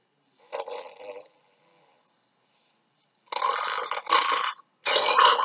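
Loud, rasping snores come in separate bursts, one short grunt followed after a pause by several longer, harsh rattling snorts close up, with no talking.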